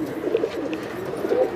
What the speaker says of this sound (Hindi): मादी उड़ी हुई आकाश भाई, मेरे घर की कबूतरी है, कैच पे हो।